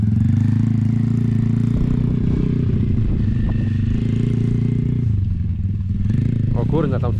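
A motorcycle engine runs under throttle on rough terrain, a loud, close, steady low-pitched drone with slight revving changes and clatter, while people talk over it.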